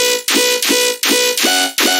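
Synthesized riddim bass lift, a bright, heavily compressed electronic bass tone repeating in six loud, even pulses with short gaps between them, dense and buzzy, with no voice over it.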